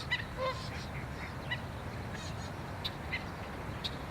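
Geese honk repeatedly from a short distance on a shoreline where stilts nest, with several scattered calls over steady outdoor background noise.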